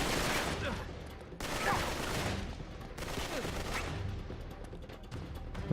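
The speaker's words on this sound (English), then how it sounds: "the police will start shooting at you" Police gunfire in the Uncharted 3 video game: repeated bursts of automatic fire crackle through a dense, noisy battle ambience, coming in clustered volleys with brief gaps between them.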